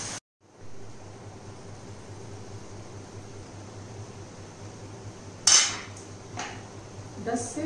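A metal lid clanks down onto a cooking pot of onions over low heat, a single sharp clatter midway through a quiet stretch of faint background hiss, followed by a smaller knock.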